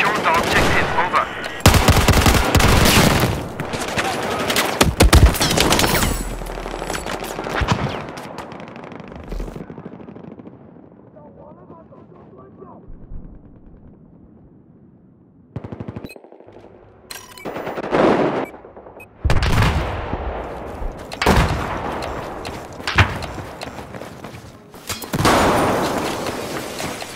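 Machine gun fire in the war video game Propaganda Chain Link: loud rapid bursts of automatic gunfire and scattered shots, fading to a quiet stretch midway before heavy bursts resume, with occasional voices in the mix.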